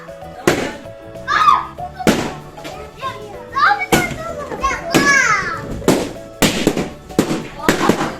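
Children pop balloons at a party with a piñata, sharp broadband bangs landing every second or so over excited kids' shouts and chatter nearby.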